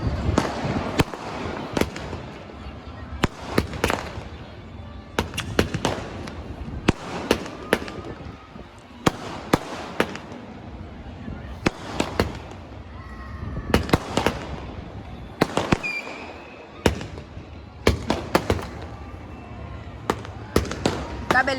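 Firecrackers burst in repeated loud volleys of sharp cracks and pops, with short gaps between clusters, heard at a festive gathering where people are eating dabeli.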